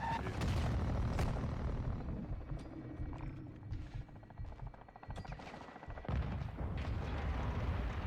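Gunfire in the shooter game Call of Duty Modern Warfare 2, a dense, continuous barrage of shots and booming blasts that stays loud throughout with a brief dip near the middle, with no talking.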